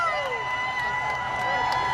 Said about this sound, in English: The crowd kind of getting excited about the buses.